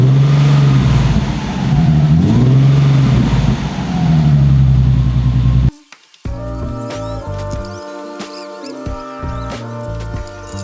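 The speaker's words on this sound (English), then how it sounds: "let's see what it sounds like right now, and we'll compare to what it sounds like without the mufflers on." A Nissan 370Z drift car with its mufflers still fitted revs loudly nearby, the exhaust note rising and falling over several seconds, then cutting off abruptly before a different tonal sound takes over.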